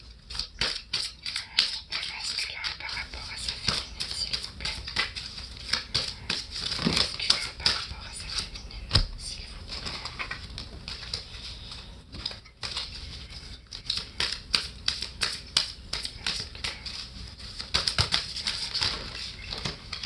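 Tarot cards slip, fall and flip over on a table in quick papery flicks and light slaps, near and fairly quiet, coming in bursts with short pauses between them.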